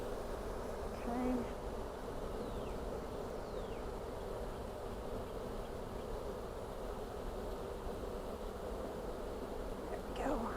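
Dense, continuous buzzing of many honey bees, close and steady throughout, at an open hive during a honey harvest.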